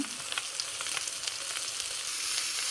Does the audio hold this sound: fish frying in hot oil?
yes